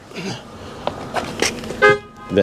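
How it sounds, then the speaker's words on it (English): A Mercedes-Benz W211 car horn blares in short honks near the end, preceded by scattered clicks and shuffling noises close by. "that's a really loud horn"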